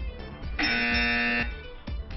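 A game show buzzer sounds when time runs out on a trivia question: one steady harsh electronic tone lasting under a second, loud and alone, with faint background noise around it.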